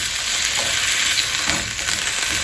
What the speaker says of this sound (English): we're going to add our potatoes and our carrots and allow them to saute